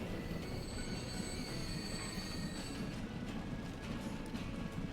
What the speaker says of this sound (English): let's watch this train go through to Bradford